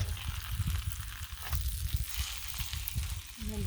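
Pancakes fry on a griddle with a steady, close sizzle and soft crackle that runs continuously, with no voices over it.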